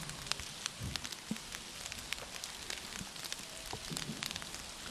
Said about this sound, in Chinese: 现在雨势有加大的状况啊